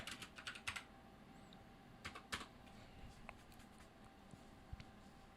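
Scattered bursts of typing on a computer keyboard, quick clusters of light key clicks with pauses between them, faint and close in a quiet room with no talk.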